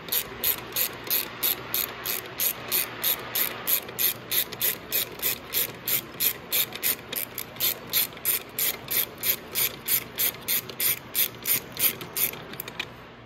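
A ratchet wrench backs a bolt out of a 125cc motorcycle during motor mount replacement, giving a steady run of quick, even clicks close by and alone for most of the stretch.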